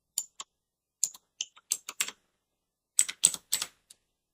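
A password is typed on a computer keyboard: light, close key taps fall in short irregular clusters separated by quiet gaps, with no talking.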